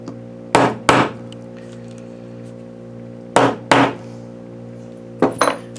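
Hammer strikes a lead sample during a hardness test in three pairs of sharp, close metallic blows, each pair spaced a couple of seconds apart over a steady electrical hum.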